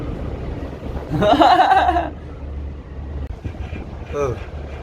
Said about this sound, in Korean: 진짜 아래에서 바람 엄청 계속 들어와 시원하게